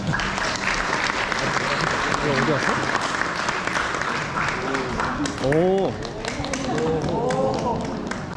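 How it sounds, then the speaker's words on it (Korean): Wedding guests clapping warmly as a congratulatory song begins; a broad wash of applause runs throughout while voices and sung or spoken tones rise over it in the second half. "뜨거운 박수 부탁드리겠습니다"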